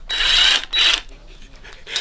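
A ratchet tightens screws on a Cupra engine during a rebuild, giving two close, loud bursts of rapid clicking with a short pause between, then a fainter tail and one small click at the end.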